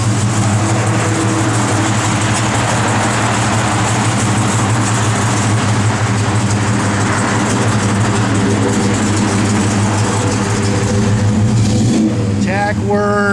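A 1971 Chevrolet Chevelle SS with a big block engine runs loud and close in a steady rumbling drone, with voices talking over it.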